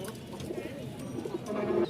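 Rajshahi flying pigeons coo softly and close by in a short, low, murmuring burst, with faint background noise.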